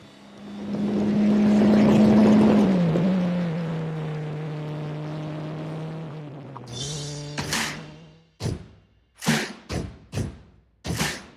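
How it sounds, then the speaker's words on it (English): A Formula Regional single-seater at Misano's Marco Simoncelli circuit, on a glorious summer's day on Italy's Adriatic coast, drones loudly with a steady engine note that sags and fades, then gives way to several sharp bursts of revving. "a lap of the Marco Simoncelli circuit"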